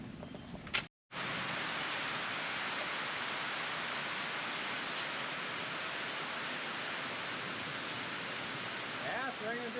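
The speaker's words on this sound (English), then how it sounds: "it's raining just a little bit more than we thought" Rain falls outside a well house during a sheetrock job, a steady soft hiss of drops that runs nearly the whole time after a brief knock and gap at the start.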